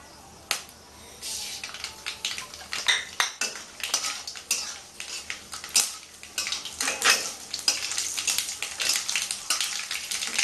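Mustard seeds and dried red chilli crackle and pop in hot oil for a Bengali green mango chutney, a dense run of sharp close snaps and clatters that builds steadily, with no talking.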